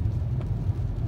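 A car drives along a road, heard from inside as a steady low engine rumble and road hum, fairly quiet and continuous with no voices.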